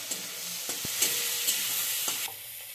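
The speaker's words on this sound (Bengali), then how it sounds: "আবার আমি একটু নেড়ে করে ভেজে নেব।" Green chillies sizzle in a pan with salt and turmeric, a steady close frying hiss broken by a few sharp scrapes and taps of a spatula stirring, with no voices.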